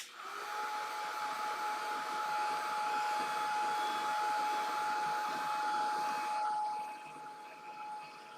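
A hair dryer blows steadily on wet watercolor paper in a snowy cabin night painting, a loud, even whine holding for several seconds before cutting off near the end, with no talk.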